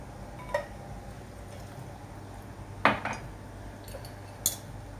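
Ground coffee is spooned from a container for brewing, with a few sharp metallic clinks of the spoon against dishes standing out over a quiet background hiss.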